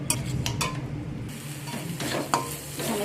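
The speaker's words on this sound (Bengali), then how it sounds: "মশলার মধ্যে অল্প একটু জল দিয়ে সমস্ত মশলাটাকে ভালো করে কষিয়ে নেব।" Ground spices cooking down in a pan with a splash of water, giving a steady low sizzle under scraping stirs and a few sharp spoon-on-pan clinks, close and fairly quiet, with no voices.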